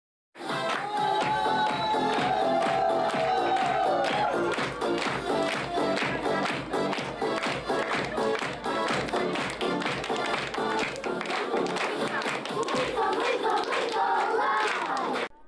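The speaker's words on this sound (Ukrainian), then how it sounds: "З гучних аплодисментів розпочався захід у навчально-реабілітаційному центрі у Рівному" Loud, sustained applause from a crowd fills a children's St. Nicholas Day celebration at an educational and rehabilitation centre in Rivne, with dense steady clapping running the whole time and barely any voices.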